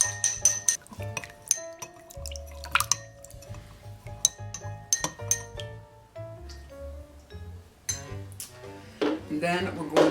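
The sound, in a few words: spoon stirring sugar into a gin fizz in a glass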